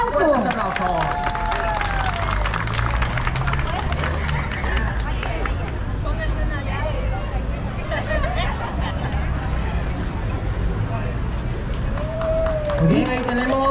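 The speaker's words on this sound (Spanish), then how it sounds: "¡Fuertes aplausos!" Continuous crowd noise with clapping and cheering at an outdoor marathon prize ceremony in Chalatenango, steady and dense throughout, with voices mixed in the hubbub.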